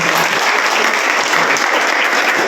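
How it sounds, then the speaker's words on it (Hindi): Dense, loud applause from a large crowd at a village political rally in Gagsina, steady clapping filling the whole moment without a break. "सबसे पहले इसके लिए आप लोग तालियां बजाएं"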